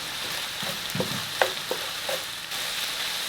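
Chicken mince frying with garlic paste and garam masala, a continuous close sizzle with a few scraping stirs and clinks of a spoon against the pan.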